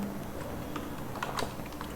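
Typing code on a computer keyboard during a coding session, a quiet, irregular patter of soft key clicks with a few sharper taps near the middle, heard close up without talk.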